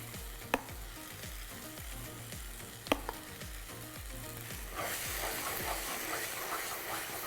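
Chettinad masala frying with mashed tomatoes in a pan, a close sizzle with two sharp utensil knocks before the frying swells louder and hisses more.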